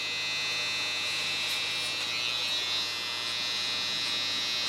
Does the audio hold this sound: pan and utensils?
no